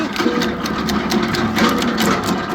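Tractor-driven branch wood chipper running at very low revs with a 60-horsepower tractor, a loud steady mechanical whirring drone with rapid rhythmic rattling, close and continuous.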